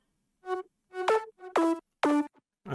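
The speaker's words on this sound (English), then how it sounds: "Then we also have a harmony to the main lead, which sounds like this" Synth harmony line backing the main lead in an electronic track, four short bright tonal stabs with gliding pitch, played alone in a clear rhythmic pattern.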